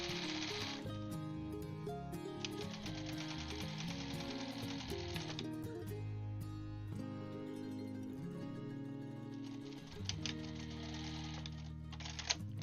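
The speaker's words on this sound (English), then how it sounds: "Did not intend to do sewing machine zoomies today" A sewing machine stitching a quilt runs steadily throughout, a rapid, continuous motor-driven whir with small stops and restarts, loud and close.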